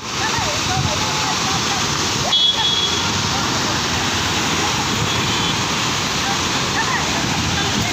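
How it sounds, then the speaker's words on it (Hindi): Water gushes and roars in a loud, continuous torrent from a burst water pipeline near a bridge pillar, a dense unbroken rush with no clear voices. "पिलर नंबर 53 के पास वाटर पाइपलाइन ब्लास्ट हो गया है।"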